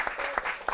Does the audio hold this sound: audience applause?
yes